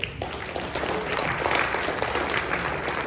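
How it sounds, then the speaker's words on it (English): A room full of attendees at a Warrenville Park District public input meeting applauds, steady even clapping sustained for a few seconds without a break. "Let's have a round of applause for all of you, please."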